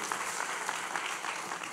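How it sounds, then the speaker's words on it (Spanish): A congregation at a Spanish-language church service applauds, a brief burst of steady, even clapping heard at moderate distance. "Damos un aplauso a Dios."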